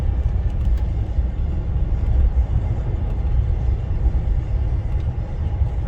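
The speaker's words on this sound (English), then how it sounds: "notice it's pretty quiet for a Maserati right now. It's not in sport mode," Maserati Quattroporte cruising in comfort mode, giving a subdued, steady low rumble of engine and road noise from inside the cabin, even and unbroken with no voices.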